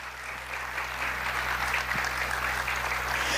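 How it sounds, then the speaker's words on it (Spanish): A church congregation applauds together, a dense steady clapping that swells slightly and continues throughout at moderate volume with no talk over it. "Dale un fuerte aplauso al Señor."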